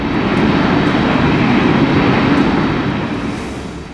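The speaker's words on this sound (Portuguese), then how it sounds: "O avião continua a correr pela pista antes de finalmente parar ao lado." A loud, steady roar of an American Flight 1400 airliner's engines, one engine having exploded after takeoff, as it rolls down the runway to a stop, the rumble fading slightly toward the end.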